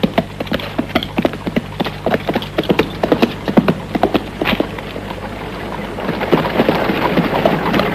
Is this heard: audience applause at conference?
no